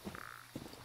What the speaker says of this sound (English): Yeah, those are frogs.